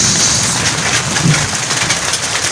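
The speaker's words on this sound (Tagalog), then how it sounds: "Ang lakas po ng ulan dito sa amin" Heavy rain at night in a backyard broiler chicken area, a dense steady hiss of downpour that fills the whole stretch with no speech.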